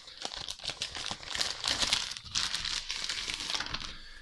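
Plastic foil wrapping torn and crinkled off a magazine, close and fairly quiet, a busy run of crackling rustles and small tearing bursts with no voice over it.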